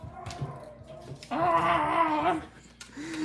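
A pet dog makes excited, happy vocal noises, a rising and wavering whine-like cry that swells loudly in the middle and fades, with softer yips before and after.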